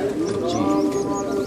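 A pigeon held in the hands at a Punjabi pigeon-flying contest gives soft, low cooing calls, steady and close throughout, with a faint chirp above and no talking.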